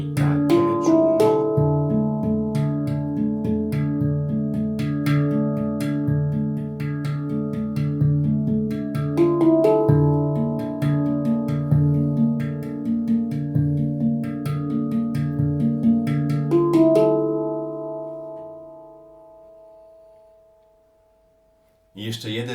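Handpan played in a repeating groove rhythm, with clear ringing melodic strokes over sustained tones, close and steady before the last notes decay into near silence at the end.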